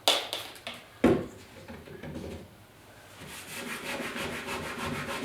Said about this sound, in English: So I'm going to use a scuff cloth.